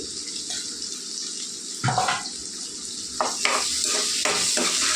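Onions frying in a pan for a chicken capsicum gravy curry, with a steady close sizzle and several louder bursts of stirring and scraping toward the end, no talking.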